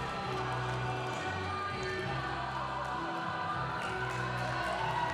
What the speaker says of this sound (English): applause from the crowd